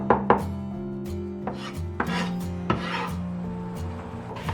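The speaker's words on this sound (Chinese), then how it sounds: "这个时候我们来切一点蒜末哈，我们先给它拍碎，" A kitchen knife mincing garlic that has first been smashed, striking a cutting board in a handful of sharp, close chops at an uneven pace, over a steady low hum and with no speech.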